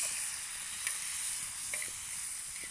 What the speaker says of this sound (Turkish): çayımız da kaynıyor